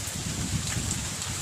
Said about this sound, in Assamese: ইমান জোৰত মানে বৰষুণসমূহ আহিছে